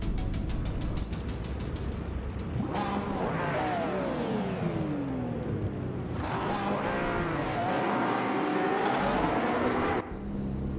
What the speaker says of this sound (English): the race just kicked off at Laguna Seca, and Maya is starting on pole in a classic 1985 Lamborghini Countach E5000Q